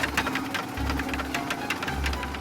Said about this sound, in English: we revved the motor banged the boat and splashed the water with a huge hook